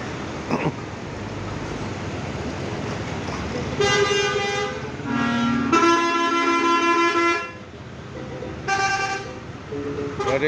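Buses and cars honk back and forth in a long queue at the exit of Purabaya bus terminal, with several loud sustained horn blasts, some overlapping, over a steady idling engine and traffic rumble.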